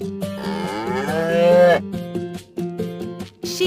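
A cow lets out one long, loud moo that swells and then fades, heard over a bouncy nursery-rhyme tune with steady beats that continues after the call.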